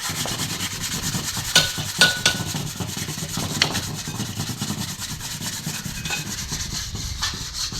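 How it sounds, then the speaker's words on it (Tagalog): Sandpaper rubbing back and forth on wood in a steady scratchy rasp, with a few sharper scrapes and knocks mixed in, close up and without speech. "Padaanan mo lang ng liha yan"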